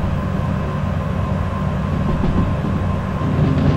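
Loaded freight train with wagons rolling in Derail Valley, a steady low rumble and hum of the locomotive and cars running continuously at an even level throughout, no talk.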